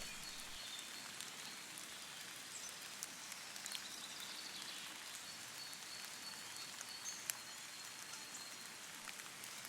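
Steady, soft rainfall patters evenly throughout, a gentle continuous hiss with occasional faint drips and no voices.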